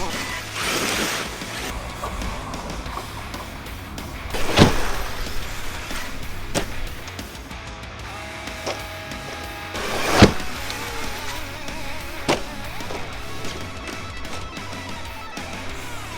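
An Arrma Kraton 8S RC car runs outdoors with a steady motor whine and a few louder bursts as it passes, while a voice briefly speaks.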